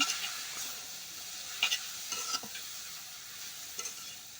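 Data greens and potato are stir-fried in a pan, giving a quiet continuous sizzle with a few sharp clinks and scrapes of the stirring utensil against the pan.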